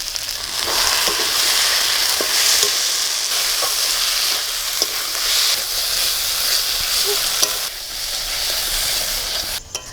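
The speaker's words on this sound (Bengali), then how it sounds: "পেঁয়াজ আদা রসুন ভালো করে ভাজা হয়ে গেছে এবার টমেটো কুচি আর কাঁচা লঙ্কা দিয়ে দেবো" Steady crackling sizzle of chopped tomato and green chillies frying with onion, ginger and garlic in a hot pan, continuous and close, with faint clinks and scraping throughout.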